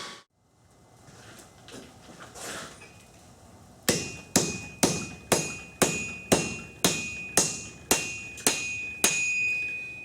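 A hammer strikes hot metal in a steady rhythm while forging a knife from a lawnmower blade, about a dozen loud ringing blows on an anvil, each leaving a bright metallic tone that lingers.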